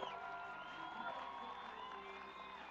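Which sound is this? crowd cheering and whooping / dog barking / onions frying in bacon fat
crowd cheering and whooping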